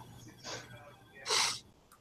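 Two quiet sniffs in close succession, the second stronger and breathier, in an otherwise hushed setting.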